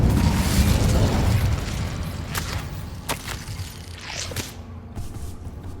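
A fiery Incendio spell blast in Hogwarts Legacy: a loud, roaring burst that gradually fades, followed by a few sharp pops and thuds, with no voices.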